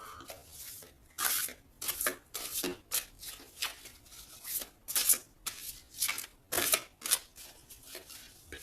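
Tarot cards shuffled and cut by hand, close and soft, in a run of quick riffling bursts separated by brief pauses, with no talking.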